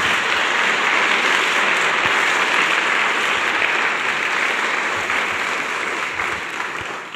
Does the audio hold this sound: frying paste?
no